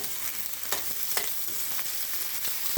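Vegetables sizzle steadily in a hot pan for a beef stir fry, salted and stirred, with a continuous broadband frying hiss and a few brief scraping strokes from the utensil moving through them, close and alone without talk.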